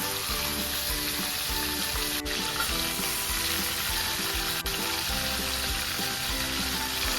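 Prawns frying in oil for a Bengali prawn malai curry give a loud, steady, dense sizzle that holds evenly from start to finish, with only faint stirring under it.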